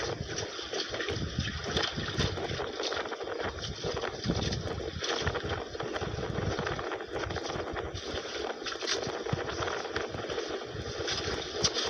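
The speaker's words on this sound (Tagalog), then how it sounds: "Lakas ng hangin, ano?" Strong, steady wind roars across the whole clip, a dense broadband rush with gusty buffeting at the microphone, over open water on a grouper fishing trip.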